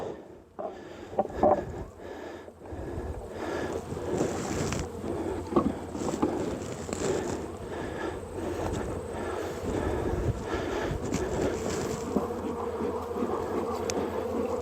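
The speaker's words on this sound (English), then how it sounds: "You can hear the hive just like come alive in there when you give them some smoke." Honeybee hive just given smoke during a move, a dense, steady buzzing swarm that swells and stays loud throughout, with occasional bumps and rustles and no talking.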